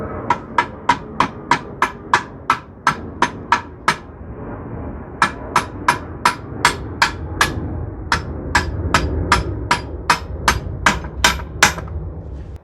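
A hammer drives a bolt in to hold the spacer of a SW-Motech engine guard on a Honda Rebel 1100: sharp, loud metallic strikes in a steady rhythm, about a dozen, a short pause, then another run of blows.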